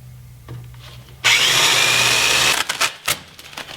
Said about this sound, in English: So I will drill those out now.